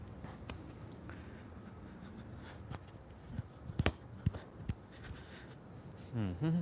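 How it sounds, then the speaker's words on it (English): Cicadas buzz in a steady high-pitched drone outdoors, with scattered soft clicks and footstep-like knocks beneath and a brief low rumble near the end. "Let's just hear the cicadas."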